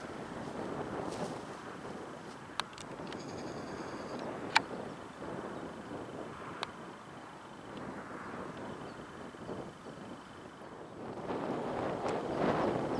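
Steady wind sweeping across the Ivinghoe Beacon hilltop, a broad continuous rush with gusty swells and occasional faint knocks, building louder toward the end.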